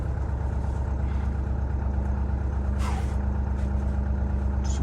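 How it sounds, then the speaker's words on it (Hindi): A Mahindra Thar's engine idles steadily after a cold start in sub-zero mountain weather, a continuous low rumble close by with no talking. "चलो गाड़ी स्टार्ट हो गई एट लास्ट।"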